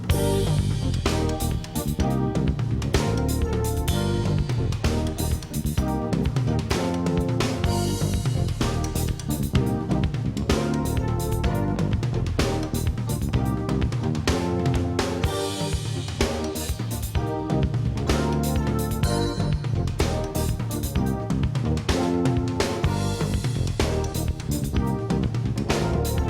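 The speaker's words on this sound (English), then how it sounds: "orchestrate that pattern on the toms, the rim, cymbals, whatever" Dense, continuous drum kit playing at a steady groove, a pattern spread across toms, rim clicks and cymbals, loud and close with no talking over it.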